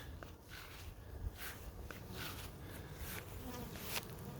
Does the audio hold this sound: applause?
no